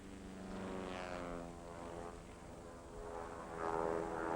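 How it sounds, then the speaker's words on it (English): A Transfield Airtruck agricultural aircraft, laden with a ton of chemical, flies by with a steady propeller engine drone that swells, eases off and then grows louder toward the end. "Even with a ton of chemical on board, the Airtruck has amazing lift and maneuverability."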